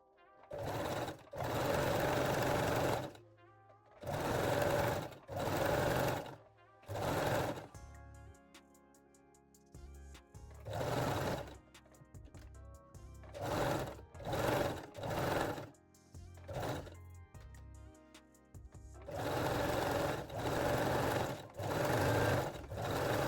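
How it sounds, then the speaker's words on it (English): A sewing machine runs in repeated bursts of zigzag stitching as fold-over elastic is sewn onto a sports bra neckline, loud and close, with short pauses between runs where background music carries on. "You can use zigzag or 3-step zigzag stitch. And gently stretch the elastic as you sew."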